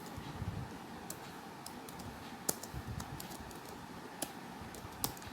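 Soft, sparse key taps on a computer keyboard, a few scattered clicks and Tab key presses while entering spreadsheet cells, over a steady low background hiss, faint and close.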